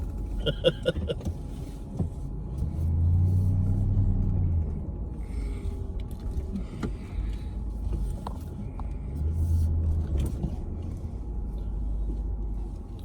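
Low engine rumble from a 2000 Cadillac DeVille limousine rises and falls as it creeps back and forth into a parking space, with occasional clicks and faint voices nearby.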